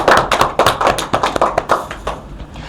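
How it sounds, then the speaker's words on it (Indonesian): A classroom group applauds a student presenter, with many hands clapping in quick, uneven rhythm, close and lively, fading slightly toward the end. "beri aplaus dulu kepada Refta"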